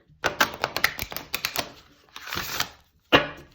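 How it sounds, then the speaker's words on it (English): Rapid papery rattling bursts of a new, stiff Master Teacher Crystal Oracle card deck being riffle shuffled, with clicky flutters and a short pause before a final riffle. "riffle shuffling, I don't know, feels a little difficult"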